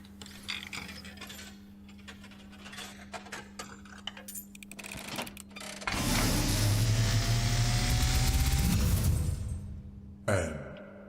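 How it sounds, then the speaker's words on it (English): In the video game Blue Prince, a run of clicking, ratcheting mechanism sounds gives way to a loud rushing burst with a metallic ring that may be a dropping coin, then a brief final clatter. "I am awakened at the sound of a dropping coin"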